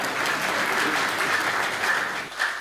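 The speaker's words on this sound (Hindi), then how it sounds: "तालियां बजा दी जाओ" Steady, dense applause from a crowd at a political stage event, continuous and fairly loud throughout, with no voices standing out.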